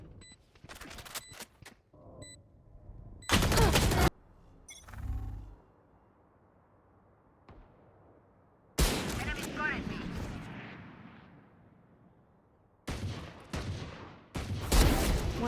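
Gunfire in a shooter video game: sharp bursts and rapid volleys of shots in several clusters, loud and close, separated by quieter gaps with a faint lingering tail and occasional metallic clinks.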